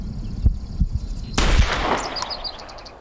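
A rifle shot fires in the hunting video game Hunting Simulator while stalking bighorn sheep. It is one loud, sharp crack that rings out and fades, and faint chirps sound after it.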